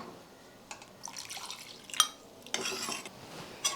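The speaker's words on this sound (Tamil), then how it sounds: "இப்போ வந்து தேங்காய் பால் எடுத்து வச்சுருக்கேன் இதில் சேர்த்துக்கலாம்" Coconut milk pouring and splashing into a pot, with scattered metallic clinks and drips, close and intermittent, no talking.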